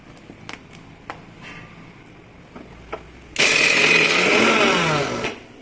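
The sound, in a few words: electric mixer grinder grinding chutney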